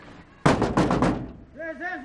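A fist bangs on a door in a quick burst of about four heavy, close knocks, followed by a voice calling out.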